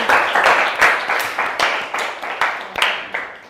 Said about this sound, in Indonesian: tepuk tangan dulu untuk Fitri